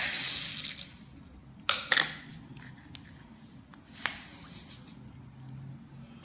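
Green gram and millet being washed in water, with an opening splash, then sporadic clicks, knocks and sloshes of grains stirred in a vessel over quiet background hiss.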